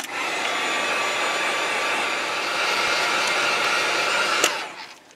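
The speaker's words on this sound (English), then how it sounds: "let me get the heat gun out. We're going to dry it off real good." A heat gun blows hot air to dry a hair wrap, a loud, steady whooshing hum that runs unbroken and then cuts off abruptly at the end.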